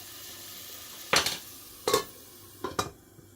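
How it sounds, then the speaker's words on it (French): Onion frying in a pan for sfiria algéroise: three short, loud bursts of sizzling and stirring at irregular intervals stand out over a quiet background hiss, with no voices. "Je vais faire revenir jusqu'à ce que l'oignon devienne caramélisé."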